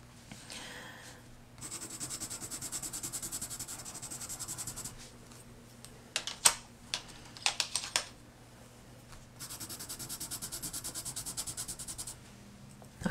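Graphite pencil drawing on paper, soft scratchy strokes in rhythmic bursts of steady rubbing, with a few sharper taps in the middle, quiet and close.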